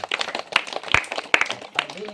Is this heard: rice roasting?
no